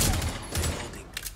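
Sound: gunfire in Rainbow Six Siege video game

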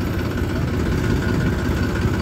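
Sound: motorcycle engine running while loading sugarcane trolley

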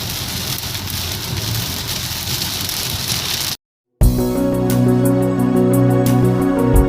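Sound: heavy rain

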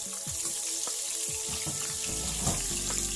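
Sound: shallots sautéing in used frying oil

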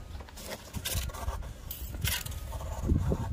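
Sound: untangling tangled wall decor

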